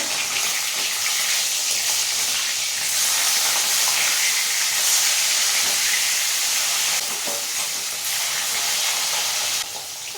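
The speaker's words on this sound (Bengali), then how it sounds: "এইভাবে উল্টে পাল্টে মাছটা খুব ভালো করে ভেজে নেব" Rohu fish pieces frying in hot oil in a pan, a loud, steady hissing sizzle that swells and eases slightly as the pieces are turned, close and continuous with no talking.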